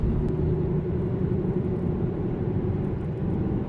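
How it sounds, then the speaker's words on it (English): Steady, loud low-frequency road rumble from car tires while driving, a continuous broadband drone with no speech. "you can kind of hear how much noise my tires are making"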